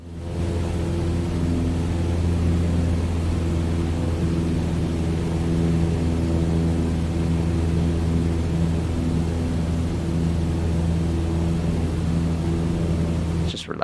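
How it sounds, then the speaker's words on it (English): Steady low drone of a Cessna 152 engine in Microsoft Flight Simulator, cruising over Athens, Greece; an even, unbroken hum with no speech over it. "Just the nice little rumble of the engine."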